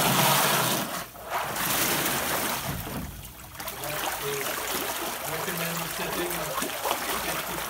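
A BlueROV2 underwater thruster running at half gain off a 750 W 15 V subsea power module churns and splashes water, producing a loud, continuous rushing wash that dips briefly and then resumes steadily.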